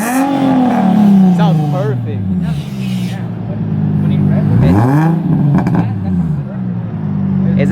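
A Nissan 350Z's loud, throaty custom single-exit exhaust revs up and down repeatedly, deep and close, while people talk over it.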